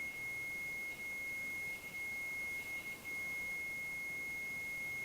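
A steady, unbroken high-pitched electronic beep tone holds throughout over a faint background hiss.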